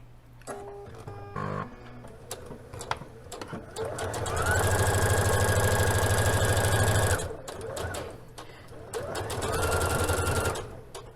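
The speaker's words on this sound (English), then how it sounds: "we're going to backstitch at the beginning and the end just like we did before" Sewing machine backstitching and stitching pattern pieces of a Liberty London Florence palazzo suit, with short bursts early then a long steady loud whirring run and a second run near the end.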